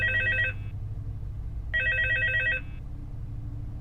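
An old-style telephone ringing in the Crawlspace horror video game, two electronic bell trills about a second apart, clear and steady over a low rumbling ambient hum.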